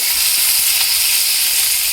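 Bitter gourd slices fry in hot oil, giving a loud, steady, close hiss and sizzle that runs unbroken with no voices over it.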